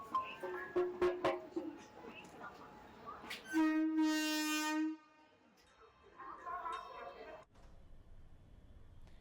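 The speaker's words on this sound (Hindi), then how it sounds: "खंडवा रेलवे स्टेशन से स्पेशल ट्रेन द्वारा श्रद्धालु का जत्था अयोध्या के लिए रवाना हुआ।" A special pilgrim train leaves Khandwa railway station bound for Ayodhya, sounding one long, loud horn blast amid station bustle and rumble, with people talking around it.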